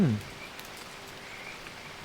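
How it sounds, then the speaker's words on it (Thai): Steady soft rain falls in the gardening video game Garden Life, a faint, even hiss throughout, with a brief voice at the very start. "อ๋อมันฝนตกไง"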